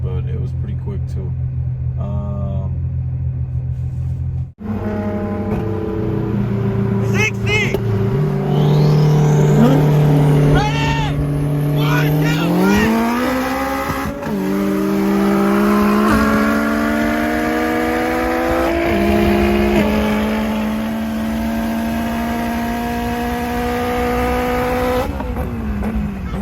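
A turbo K24-engined car races a stock-turbo Nissan GTR. After a quieter idle, the engines roar loudly and climb through repeated upshifts with brief dips at each change, sustained and near.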